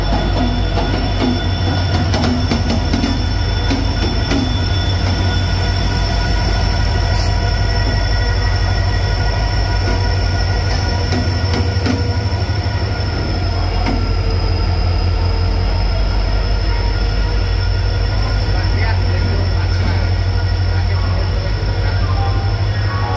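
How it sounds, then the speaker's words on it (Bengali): The Bokaro Steel City Express arriving at a platform in Howrah, a loud steady rumble of wagons rolling close by, with intermittent wheel squeal and faint station voices in the background. "চলে এসছে আমাদের ট্রেন বোকারো স্টিল সিটি"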